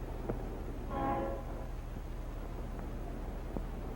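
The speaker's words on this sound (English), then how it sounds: "And then we stopped for the train." A train sounds a brief, distant horn blast over a steady low rumble of rail noise, faint and far off.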